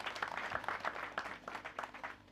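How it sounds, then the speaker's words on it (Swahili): A crowd applauds at a memorial life celebration, fairly faint and somewhat distant, with irregular clapping that carries steadily across the moment and fades slightly toward the end. "Tumpige makofi vizuri,"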